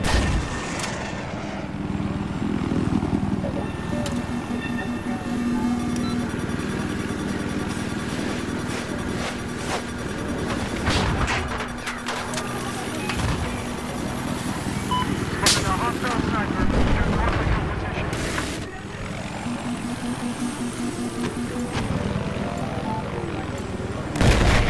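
A Little Bird light helicopter drones continuously with a steady rotor whine in the video game Battlefield 4, overlaid by scattered bursts of gunfire and explosions on a busy battlefield.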